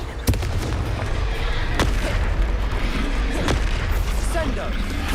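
Confringo spell blasts from a Harry Potter wand-dueling video game, a few sharp booming explosions that pop loud against a steady roar of battle noise, with voices calling out spells nearby.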